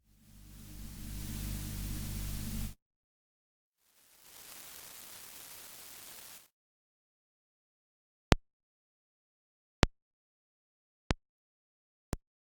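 Two stretches of steady broadband hiss, then silence broken by four sharp, isolated clicks spaced a second or so apart, a vinyl noise and crackle effect from a Waves audio plugin.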